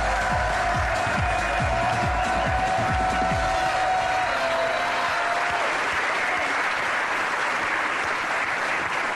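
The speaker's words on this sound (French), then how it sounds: "Je demande d'applaudir, s'il vous plaît, Isabelle Mergault." A TV studio audience bursts into loud, dense applause that fills the whole stretch, with a swelling musical sting underneath at first that fades out, leaving only sustained clapping close and strong.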